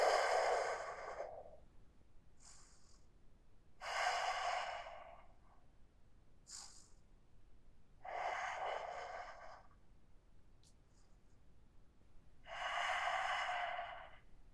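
Slow, deep breaths during a yoga pose, with about four long breathy exhalations spaced a few seconds apart, close and fairly soft, and no talking.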